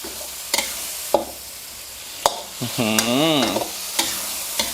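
Canned fish and chili paste stir-fry in a pan, sizzling steadily as a utensil knocks and scrapes the metal in a few sharp strikes, with one longer grinding scrape midway.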